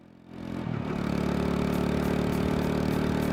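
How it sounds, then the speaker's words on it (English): A motorcycle engine starts up and settles into a loud, steady, rough idle, a close continuous rumble with a fast pulsing beat and no voices. "you hear what sounds like a motorcycle"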